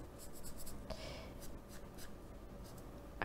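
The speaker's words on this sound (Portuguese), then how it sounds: "Que eu vou desenhar para vocês." Chalk or marker strokes on a board, a series of short scratchy bursts and taps at close range as a diagram of current direction is drawn, with no speech over it.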